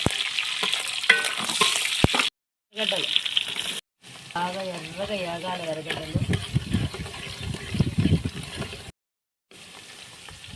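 Whole spices, bay leaf and cloves fry in a pot for a country chicken biryani, giving a steady sizzle with stirring, broken by short gaps while a person talks over it.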